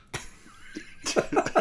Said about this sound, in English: the cough was from me.